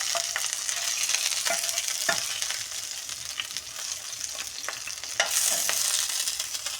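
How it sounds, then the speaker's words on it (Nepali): Horse gram (gahat) being dry-roasted and stirred in a pan outdoors in a forest setting, with steady sizzling crackle and repeated scraping strokes of the spoon throughout, no talk. "भुट्दैछु।"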